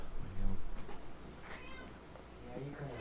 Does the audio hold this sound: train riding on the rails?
no